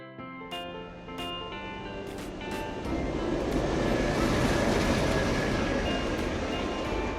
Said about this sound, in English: Bullet train.